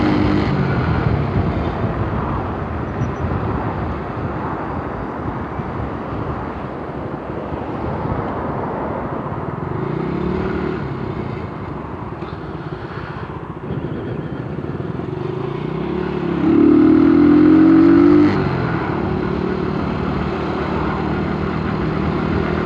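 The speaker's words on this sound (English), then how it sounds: "you couldn't hear my motorbike. Now you can just hear it." A motorbike engine with a loud exhaust rumbles steadily while filtering through traffic, a continuous close drone that swells briefly louder near the end.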